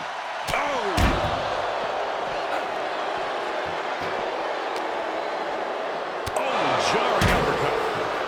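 Two heavy body slams in a Joker versus Logan Paul Hell in a Cell wrestling video game, one early and one late, each a loud booming thud over a constant crowd roar.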